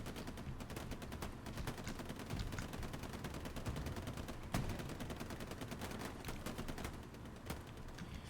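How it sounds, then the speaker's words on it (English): Machine gun crossfire in a World War II tank video game crackles as steady, dense bursts of rapid gunfire across a distant battlefield, with one sharper louder shot standing out midway. "They're still being crossfired from MGs across the map"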